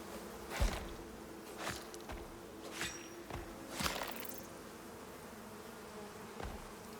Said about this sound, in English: Oh, those bees are going to get angry.